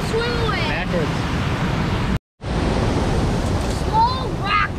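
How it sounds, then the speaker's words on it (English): Water rushing hard along a river after a rise in flow, a steady broad roar that fills the scene, briefly cut out midway, with faint squeaky tones over it. "the water's rushing twice as hard as it was the Memorial Day weekend"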